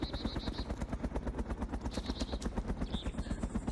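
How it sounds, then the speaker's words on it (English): Automatic gunfire in the DayZ mod for ArmA 2, aimed at a small helicopter from inside a trader zone, rattles in rapid bursts over a steady rotor drone, fairly loud and continuous throughout. "These dickheads are here shooting at a mozzie from inside the trader zone."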